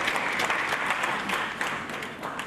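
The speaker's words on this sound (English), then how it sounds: "Can you please give them a round of applause?" An audience at a geospatial conference's annual general meeting breaks into steady applause, a continuous crowd clatter of hands filling the room.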